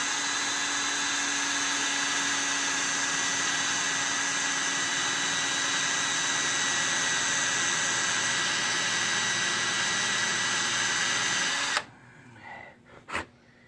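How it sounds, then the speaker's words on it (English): A power drill bores through a metal flutter trolling spoon with a steady, loud, sustained whine that runs for about twelve seconds before stopping abruptly, followed by a few brief clicks and knocks. "Now we're going to take this drill that we've got."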